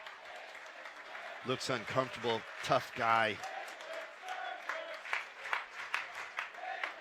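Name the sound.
crowd applauding injured soccer player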